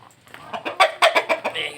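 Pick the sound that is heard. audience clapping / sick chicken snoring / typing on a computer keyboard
sick chicken snoring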